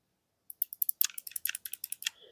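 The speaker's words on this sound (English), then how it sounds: "So they have like a click to them, kind of similar to a mechanical keyboard." Micro switch face buttons on a Flydigi Vader 5 Pro controller clicking close up, about a dozen quick sharp clicks in an uneven rapid run like mechanical keyboard keys, with no talking.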